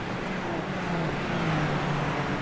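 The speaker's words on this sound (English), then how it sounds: "I really like the way these Super Formula Lights cars sound" Super Formula Lights race cars, reportedly sharing a Toyota GR Yaris engine, driving in a racing video game at Zandvoort, a steady droning engine hum with rising and falling whines, distant and continuous.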